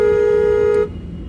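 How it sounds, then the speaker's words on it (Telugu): A car's horn sounds one steady, loud tonal honk during a slow driving lesson, held for just under a second before cutting off to low engine and road rumble. "హార్న్ కూడా కొడుతూ ఉండాలి."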